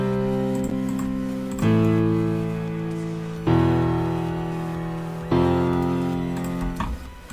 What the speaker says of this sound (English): Okay, now we got our chords.